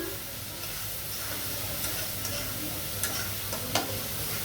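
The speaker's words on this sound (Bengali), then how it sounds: "আদা রসুন দিয়ে আমি ভালো করে এটা ভেজে নেব" Ginger-garlic paste frying in oil for a potato and egg curry, an even hissing sizzle with a few light ticks and clinks, fairly quiet and without speech.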